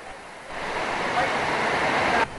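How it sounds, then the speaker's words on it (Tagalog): Dense, steady hiss of heavy rain pouring down during flooding in Baguio City, Philippines, rising in loudness after a moment and cutting off abruptly near the end. "Maya-maya bumuhos na naman ang malakas na ulan."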